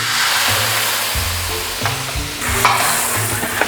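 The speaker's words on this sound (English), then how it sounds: "now we're gonna deglaze with a little white wine" White wine hits a hot pan of shallots, a loud close sizzle and hiss with stirring scrapes and occasional clinks, no talking.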